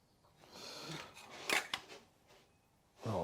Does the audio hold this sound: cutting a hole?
yes